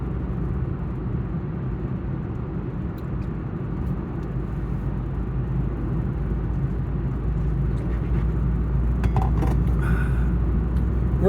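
Steady interior road rumble of a car cruising at about 45 mph with a propane truck close behind, a constant low droning noise with a few faint clicks and rattles near the end.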